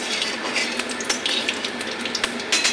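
Whole fennel and cumin seeds, added after dried red chillies, fry in a pan for an olive pickle, giving a steady close crackling sizzle with occasional sharp pops and no talking.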